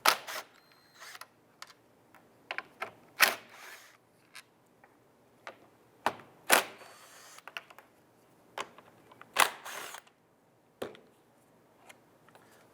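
Ratchet loosening and removing two 10mm bolts atop each radiator cooling fan on a 2011-2017 Honda Odyssey: sparse, close clicks and short metallic clatters in irregular bursts with quiet gaps between.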